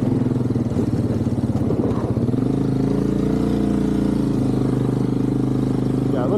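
A Yamaha Big Bear 350 ATV engine drones steadily and loudly while being ridden, holding a sustained mid-pitched hum with a brief rise in revs early on, close to the rider in a winter setting.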